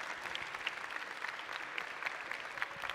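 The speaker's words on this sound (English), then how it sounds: "A lot of clapping, a lot of clapping." A festival audience claps steadily, dense overlapping applause that stays even and fairly loud throughout, with no voices on top.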